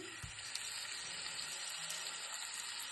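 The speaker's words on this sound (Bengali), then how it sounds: "তেল যেহেতু গরম হয়েছে আমি মাছটা আস্তে করে রাখলাম" Fish fries in hot oil in a pan, giving a steady, bright, hissing sizzle throughout after a soft thump as the fish goes in.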